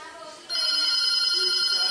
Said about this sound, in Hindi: वो फोन आ रहा है।